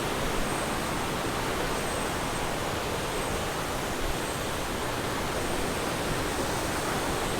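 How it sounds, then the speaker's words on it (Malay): The Sungai Cincin river flows beside a campsite, a steady broadband rush of water with no pauses, moderately loud and constant throughout. "So kat tepi ni dia ada sungai."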